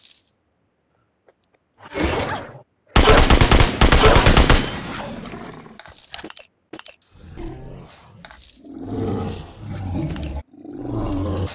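Automatic gunfire bursts loudly in the Metro Royale video game, a dense rapid rattle for about two seconds among shorter shots, clicks and rumbling game noise.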